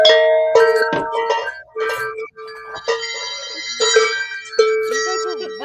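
Small bells, a cowbell and chiming clinks rung in a burst of festive noise-making at a home birthday celebration, ringing tones layered and overlapping, with people talking and laughing among them.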